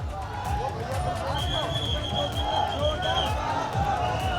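Dense, continuous hubbub from a large crowd of BJP party workers gathered at a political rally in Uttar Pradesh's Awadh region, with many voices merging into a steady roar and no pauses.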